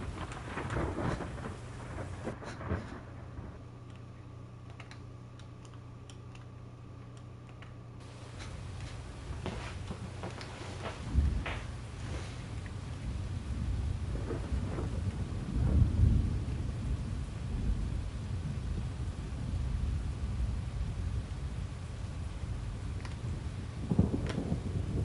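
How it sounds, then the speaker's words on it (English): A video game thunderstorm brings steady rain with deep rolls of thunder swelling midway and again near the end, loud and close, with no voices. "We're gonna get a little rain now."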